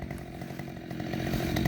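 A Husqvarna chainsaw idling in the woods in early spring, a steady close engine burble with a slight rise in level toward the end, no voices over it.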